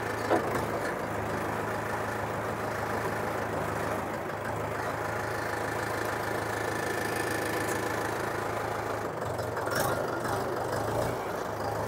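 A 2025 Mahindra 475 DI MS XP Plus tractor pulls along in first load gear, its diesel engine holding a steady, continuous mid-pitched drone close by, with no voices.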